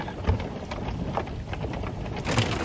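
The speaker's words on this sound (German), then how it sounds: "Und jetzt kommt hier der krasseste Hagelstorm." Heavy hail pelting down during a thunderstorm at a campervan stop in southern Croatia, a dense, steady roar of impacts with a few louder hits, close and continuous with no talking.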